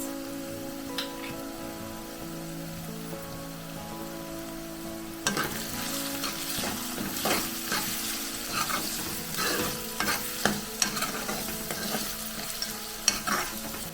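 Onions frying in a pan with turmeric and salt for Maharashtrian kanda poha, a steady soft sizzle that grows busier midway, with scattered stirring scrapes and clicks close by.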